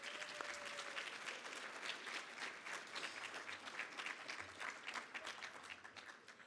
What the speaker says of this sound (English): Let's hear a round of applause for all of our student organizations.